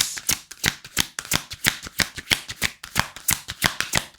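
Tarot cards shuffled close up in a rapid, steady run of crisp riffling slaps, about three to four per second, with no voice over them.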